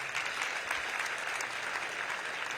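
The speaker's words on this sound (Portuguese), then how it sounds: "vamos aplaudir o Senhor Jesus" A church congregation applauds during a missions symposium service, a steady, moderately distant wash of many hands clapping that carries evenly without voices over the clip.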